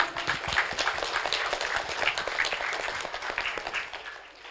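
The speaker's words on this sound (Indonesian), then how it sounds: "Tepuk tangan." A small group claps together in a loose, lively patter for several seconds, close by, with a few soft voices mixed in, at an elementary school Quran recitation exam.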